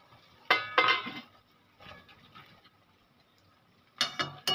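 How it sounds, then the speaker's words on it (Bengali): A lid is lifted off a cooking pot of Bengali fish curry with lentil bori, giving a few close, sharp metallic clinks and clatters in short bursts separated by quiet gaps. "এবার আমি ঢাকাটা খুলে দেখব।"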